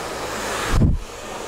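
A hair dryer blows hot air at the roots while hair is styled into a wavy blowout, a steady close roar of rushing air that surges briefly midway and then settles.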